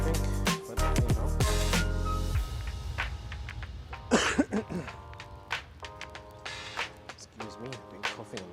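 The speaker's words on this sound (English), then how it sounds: "I've been coughing a lot." A person coughs in a few sharp, close bursts at the start, then more scattered throat sounds follow amid background noise and a little talk.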